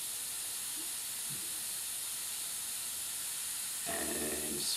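An airbrush hisses steadily as it sprays paint on a hummingbird painting, a continuous soft airy hiss close by, with a brief faint knock partway through and a louder burst of spray near the end.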